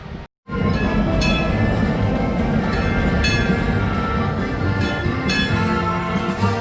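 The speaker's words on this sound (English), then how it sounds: "So we just taken our first ride on the Runaway Mine train." The Runaway Mine Train roller coaster at Alton Towers rumbles loudly and continuously after a brief gap, its cars rattling and clattering along the track with occasional sharp metallic clicks, close by.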